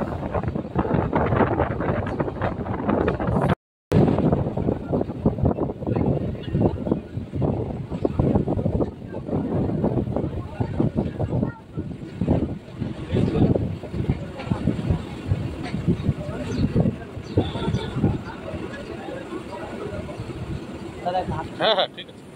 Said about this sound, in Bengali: ট্রেন এখন বসিরহাট স্টেশন ছেড়ে বেরিয়ে যাচ্ছে